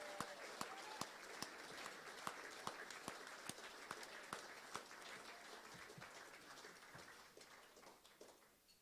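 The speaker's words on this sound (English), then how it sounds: "Big round of applause for Leslie as he makes his way forward." Audience applause at a football league presentation dinner, quiet and somewhat distant, with sharp individual claps standing out over a rustling crowd before fading toward the end.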